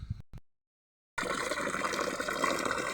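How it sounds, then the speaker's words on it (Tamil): Water pours from a jug into an organic fertilizer mix in a vessel, a steady, close gushing fill after a short silence, with brief faint sounds at the start. "இப்படி தண்ணி போட்டுக்கலாம்"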